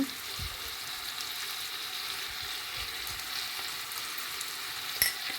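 Onions sauté with salt and turmeric in a pan over low heat, a soft, even sizzle holding steady with a faint clink near the end.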